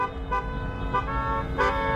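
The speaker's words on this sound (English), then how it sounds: "You hear the overwhelming amount of honking going on right now." Protesters in their cars honk horns in a sustained overlapping chorus, several tones blaring at once with louder bursts repeating across the stretch of traffic, and no talking.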